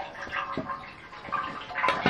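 Homemade Nepali raksi, distilled from millet mash in a copper still, trickles and drips with soft, uneven liquid splashes close by, with no talk.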